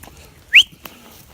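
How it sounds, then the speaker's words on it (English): A goat on a farm lets out one short, high, rising holler, close and loud, surrounded by quiet outdoor background. "That goat is hollering for them other goats"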